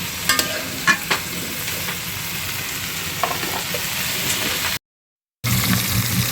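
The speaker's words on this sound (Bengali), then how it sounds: "এই যে মাছগুলো ভেজে নিচ্ছি, ঝোলের ভিতরে দিব।" Fish frying in a pan sizzles steadily, with a few louder spits and pops near the start and a brief gap of silence before the sizzle resumes.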